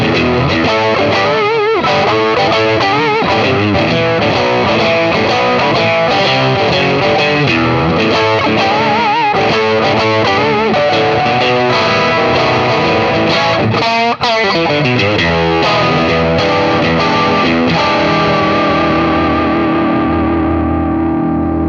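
Loud distorted electric guitar plays a continuous riff through a bare speaker outside its cabinet, full and buzzing with big bass, with a long ringing chord fading out at the end.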